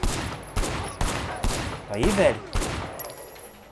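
Repeated gunshots ring out in the video game Sleeping Dogs Definitive Edition, about six sharp bursts at roughly half-second intervals, loud and close, with someone briefly speaking over them.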